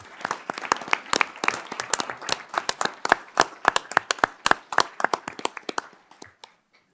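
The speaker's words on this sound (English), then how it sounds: "Let's give a round of applause for Dave Roberts." An audience at a Village of Arlington Heights board of trustees meeting claps for retiring firefighter Dave Roberts, steady close hand clapping from a modest crowd that carries on for several seconds before stopping abruptly.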